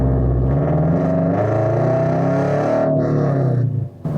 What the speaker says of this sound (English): Just going through the gears